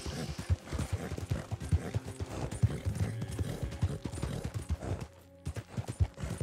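Hoofbeats of a horse running at speed in the video game Red Dead Online, a rapid rhythmic clip-clop of gallop strides, close and continuous, briefly dropping out near the end before resuming.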